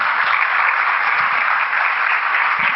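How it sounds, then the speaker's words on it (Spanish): Audience applause at a gender and justice observatory presentation in Latin America, a steady, dense wash of clapping holding evenly loud and close throughout with no voices over it. "Démosle la bienvenida a ambas con un aplauso."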